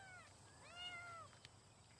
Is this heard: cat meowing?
yes